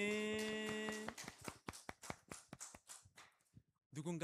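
Congregation in a Korean church service applauding, a short burst of many hands clapping that follows a sustained musical tone, then fades out before a brief new sound at the end.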